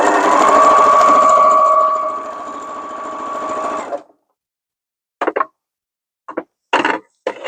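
A sewing machine stitching log cabin quilt pieces hums in one steady, loud whirring run for about four seconds, then stops; a few brief bumps and rustles of handling fabric follow.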